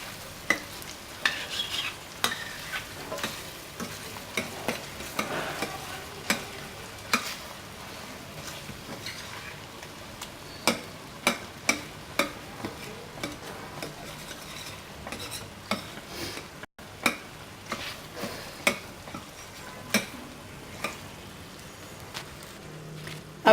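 A spatula repeatedly taps and scrapes a pan as fried goat brain is broken into pieces, with sharp intermittent clicks over a soft, steady sizzle.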